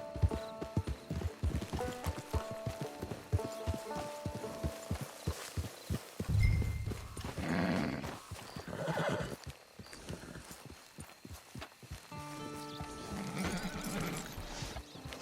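A horse in Red Dead Redemption 2 clip-clopping at a walk with steady hoofbeats, snorting and whinnying up close, with a faint voice in the background.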